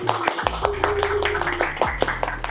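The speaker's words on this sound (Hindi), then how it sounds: "बहुत तालियां।" Audience clapping at a New Year's team gathering, sharp scattered hand claps in a room with people talking and music beneath.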